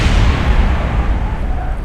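A deep, rumbling boom from an explosion in Kerbal Space Program, a dense low roar that stays loud and sustained throughout with no speech over it.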